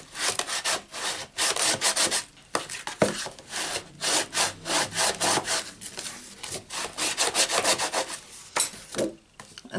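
A bone folder is rubbed firmly over paper on a stamped cardstock box lid in quick repeated back-and-forth scraping strokes, close and fairly loud, with brief pauses between bursts.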